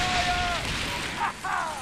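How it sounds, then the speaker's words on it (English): Ship cannons fire in the pirate naval game Skull and Bones, a couple of heavy booming shots rising over continuous game sound and music near the end. "Aim the cannon."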